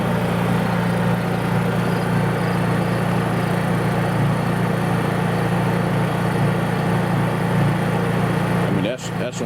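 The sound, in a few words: Honda EU3000is generator running at full throttle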